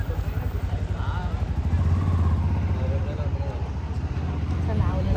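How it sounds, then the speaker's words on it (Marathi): A motorbike passes close on a street at night, its engine a loud, steady low rumble that runs through the whole stretch while people talk over it. "थांब एक बाईक जाऊ बाईक वाले थांबा कशी पण चालवतात"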